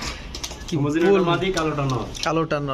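Close, low warbling coos from pigeons for sale, rising and falling in a throaty rhythm, with a voice talking nearby.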